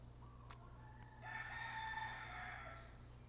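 A single rooster crows from a distance, one long rising and falling call, faint over a low constant hum.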